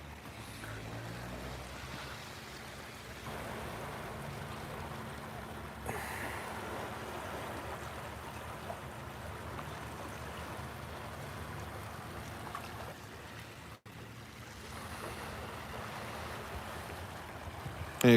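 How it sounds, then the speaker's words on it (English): Gentle waves lapping against a pier beneath the Forth Rail Bridge near Edinburgh, a soft continuous wash with faint breeze, quiet and fairly close, no voices over it. "Hear the waves lapping up here on this pier."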